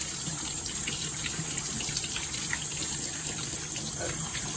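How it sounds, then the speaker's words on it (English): Running tap water pouring over garbanzo beans in a colander, a steady close splashing gush that continues evenly throughout with no talk. "Got my handy dandy colander here. Wash these garbanzo beans."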